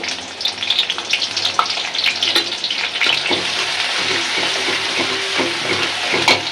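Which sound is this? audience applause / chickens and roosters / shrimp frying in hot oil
shrimp frying in hot oil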